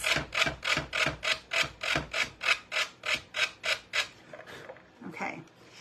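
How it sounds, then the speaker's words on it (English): Rhythmic sanding by hand, about a dozen even back-and-forth scraping strokes close up, then slowing and fading into quieter rubbing. "I'm sanding this."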